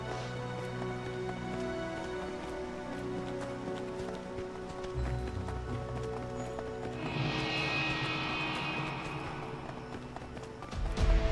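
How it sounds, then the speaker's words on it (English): Horse hooves galloping in the video game Sword Art Online Alicization Lycoris: a rapid, continuous clatter of hoofbeats that runs steadily under sustained background music, with no one speaking. "We can only get there via horse"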